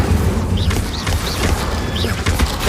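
A fire spell called Incendio is cast during combat in Hogwarts Legacy on PS5, a loud, churning mechanical rumble with repeated whooshing bursts and clanks, continuous and close, with no talking.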